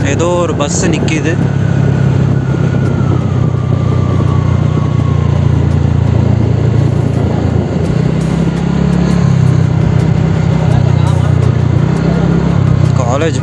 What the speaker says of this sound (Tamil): ஏதோ ஒரு பஸ் நிற்கிது.